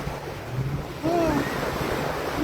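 Sea waves in Dubai wash in under gusting wind, a soft continuous surf with a swell partway through and brief faint voice-like sounds.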